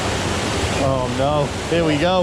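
Rushing water roars steadily through a wild river rafting ride at West Midland Safari Park, a loud, constant wash that runs beneath excited voices talking over it.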